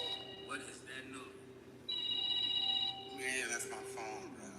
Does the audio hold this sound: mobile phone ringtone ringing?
yes